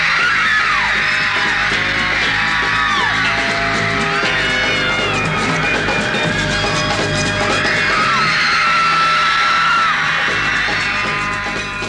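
A large New York crowd screams and shrieks at the arrival of the Beatles in 1964, a dense, loud, unbroken wall of high-pitched yells and cries that rise and fall together for the whole stretch.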